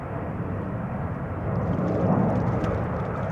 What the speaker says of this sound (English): KLM 565 787-10 Dreamliner